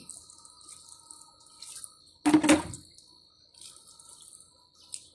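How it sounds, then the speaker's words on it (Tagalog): Water is poured into a large clay plant pot full of soil in one short, loud splashing burst, while quiet dripping and trickling are heard before and after. "At dito dagdagan din natin ng tubig."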